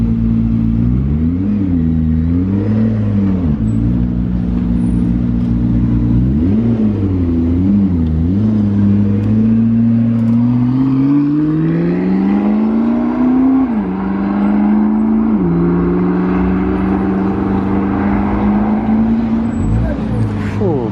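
A McLaren P1 hypercar pulls out near a delivery truck in Monaco, its engine loud and close throughout, rising and falling in pitch with repeated revs and gear changes before settling into a steady drone.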